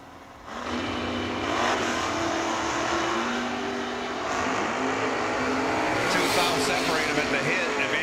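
At a drag race, a Corvette Roadster and a Monza launch with loud, sustained engines roaring and rising in pitch together. An announcer talks over the noise.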